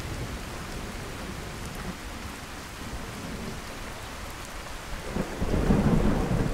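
Thunder and rain in the Skyrim video game, a steady wash of rainfall on the ground with low rolling thunder that swells louder near the end, no voices.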